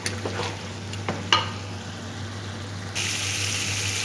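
Chicken and carrots frying in a pan for chicken jalfrezi, a steady sizzle with a few sharp clinks of a spoon stirring early on, the hiss growing brighter and louder near the end.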